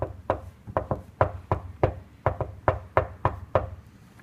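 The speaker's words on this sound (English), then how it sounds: "suddenly there came a tapping, as of someone gently rapping at my chamber door." Knocks at a chamber door, a series of about a dozen hollow wooden raps in uneven pairs and clusters, close and fairly loud.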